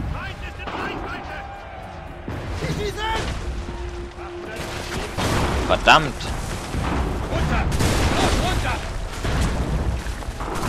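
Heavy bursts of gunfire and booming explosions crowd a chaotic Assassin's Creed III battle scene, with a sharp loud blast midway and a voice talking over the din.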